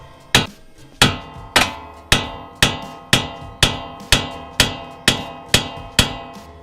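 Eleven hard, ringing metal hammer blows land on a tool to break a stuck part loose, struck at an even pace about every half second. Each blow is loud and close and rings briefly before the next.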